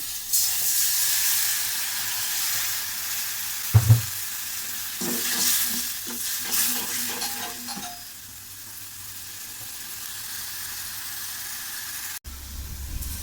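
Spices, salt, turmeric and chili powder, are stirred into a frying pan with steady sizzling, a brief sharp clatter of the spoon early on, then the frying hiss tapering off.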